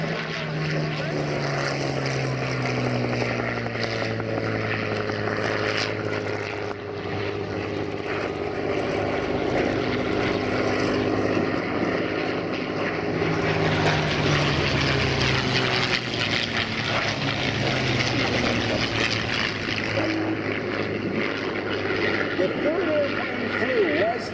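A P-51 Mustang, Spitfire and F4U Corsair fly past in formation at an airshow with a loud, continuous propeller-engine drone that rises and falls in pitch, while an announcer talks over it.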